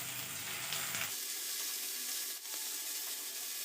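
Ginger garlic paste hits hot mustard oil with onions and green chillies, a loud, close, continuous sizzle that sharpens after a second as the low rumble drops away, with light stirring underneath.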